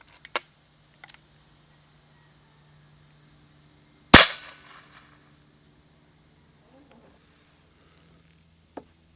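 A Hatsan Nova QE .25 PCP air rifle fires a single sharp, loud crack that decays quickly into near silence, with a few faint clicks before and after.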